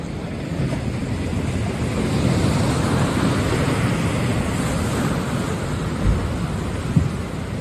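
A powerful storm surge pounds the Ionian coast of Calabria in Italy during a Medicane-like cyclone, with gusts up to 122 km/h. Crashing waves and wind blend into a loud, continuous roar, with a few heavier thuds near the end.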